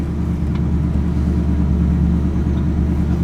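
A 1981 Pontiac Trans Am sits idling at about 1,000 RPM with a loud, close, steady low rumble and an even pulsing throb, with no talk.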